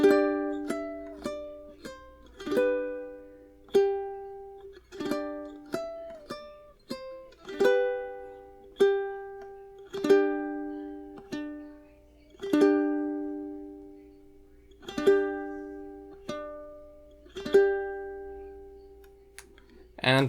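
Ukulele picked fingerstyle through the second bar of Frère Jacques, a steady run of plucked notes with ringing decays, some faster at the start, played alone at moderate volume.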